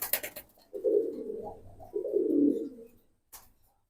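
Low, soft cooing from Jobra Pankhi pigeons in two drawn-out phrases, fairly close, with a brief rustle at the start and end.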